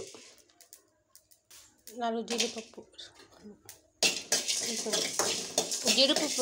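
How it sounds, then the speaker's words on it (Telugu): A metal spoon scrapes and clinks against a pan while cinnamon, bay leaf and cashews dry-fry, the clatter growing into dense, rapid scraping by the end, with a voice speaking briefly early on. "దాల్చిన చెక్క, బిర్యానీ ఆకు కొంచెం ఫ్రై చేసుకుందాం"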